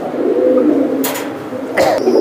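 A pigeon at a market stall coos steadily and close up over about two seconds, with two sharp broadband bursts of handling noise cutting in, and no one speaks.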